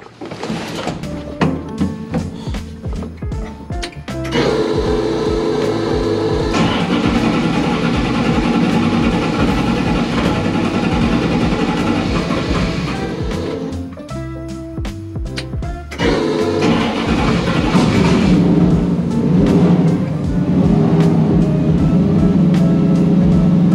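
The modified El Toro car's engine cranks on a cold day with rapid stuttering bursts, then catches and runs as a loud steady roar. It dips briefly and comes back strong.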